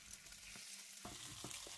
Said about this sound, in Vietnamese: Dầu rất là nóng thì mình sẽ cho 3 cái trứng gà vô và mình quậy nát nó ra.